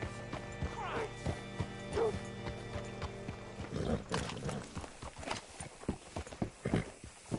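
Horse hooves clip-clop over ground in Red Dead Redemption 2, a loose uneven rhythm of fairly close steps with in-game voices and ambient sounds around them.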